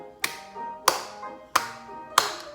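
Four evenly spaced sharp claps in a steady slow beat from a recording played during a pre-ballet class, crisp and isolated with brief decays and no talking.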